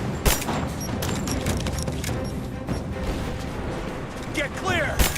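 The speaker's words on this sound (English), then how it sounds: "Grenade out!" Rise of the Tomb Raider combat: rattling bursts of gunfire with sharp cracks and a heavy blast near the start and again near the end, dense and loud throughout.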